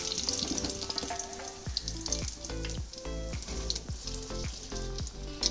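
Pakoras frying in hot oil, a steady close sizzle and crackle with faint stirring clinks, no talking.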